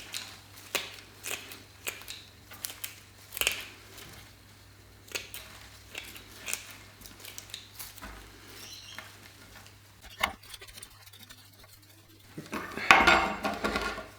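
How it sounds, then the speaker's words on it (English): Pruning shears snip Japanese maple bonsai roots in sharp, irregular close clicks and cuts with quiet rustling between, ending in a denser burst of scraping. "Just pruning back some of those edges so it's not all curling around."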